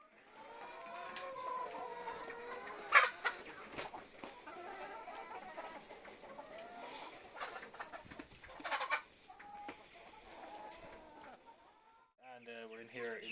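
Twenty-day-old chicks in a brooder cluck and chatter steadily at close range, with a person talking over them throughout.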